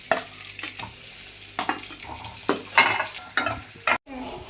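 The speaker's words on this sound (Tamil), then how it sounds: "அந்த பன்னீரை வந்து பட்டர்லேயே வந்து ரோஸ்ட் பண்ண போகிறேன்." Paneer roasting in butter in a pan, a loud close sizzle broken by repeated scraping stirs of a spatula, ending with a short gap and a softer sizzle.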